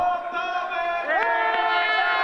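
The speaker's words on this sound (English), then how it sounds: "in the background we hear his teammates cheering for him" Teammates of a Nordic combined athlete at a large-hill Gundersen event in Val di Fiemme cheer and shout together in a steady, sustained crowd roar, with raised voices rising and swelling partway through.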